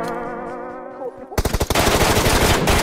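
MK14 rifle fire in a video game erupts as a rapid, loud burst of close shots following a brief engine-like drone, continuing in a dense stream.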